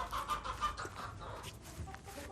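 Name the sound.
backyard chickens clucking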